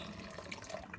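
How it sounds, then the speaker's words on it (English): Water running from a tap into a cooking pot for a Greek bolognese, a quiet, steady hissing stream that lasts about a second. "I'm going to add water now"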